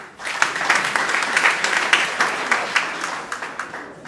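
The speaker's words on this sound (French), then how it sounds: "Il faut les applaudir s'il vous plaît." An audience at a university gathering applauds the newly elected student union bureau members, a full burst of many hands clapping that swells quickly and holds steady with scattered sharper claps standing out.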